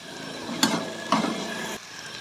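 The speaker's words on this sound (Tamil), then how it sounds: "வெங்காயத்தை நம்ம நல்லா வதக்கிக்குவோம்." Chopped onions sautéing in hot oil with fennel seeds and garlic for a dried-fish thokku: a steady, close sizzle with two brief stirring scrapes and no voices.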